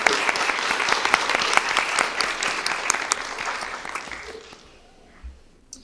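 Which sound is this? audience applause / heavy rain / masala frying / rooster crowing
audience applause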